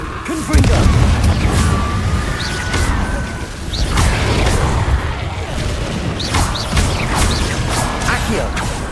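A Confringo fire spell blast from the Hogwarts Legacy video game erupts as a loud boom with whooshing, crackling effects, set against busy continuous game audio while a voice talks over it.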